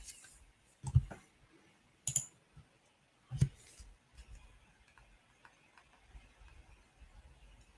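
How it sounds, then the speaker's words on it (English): Sparse keyboard clicks and taps during a live forex trading session, a few sharper strikes standing out over quiet background hiss, with no talking. "So I'm typing these trade ideas up right now"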